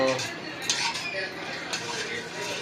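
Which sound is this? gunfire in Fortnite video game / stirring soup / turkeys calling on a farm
stirring soup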